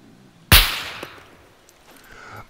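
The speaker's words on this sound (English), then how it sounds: "let's try a 45 without silencer and see just how louder it is" A single loud, sharp .45 pistol shot fired without a silencer in the survival game SCUM, a near crack that rings out and decays over about a second into quiet.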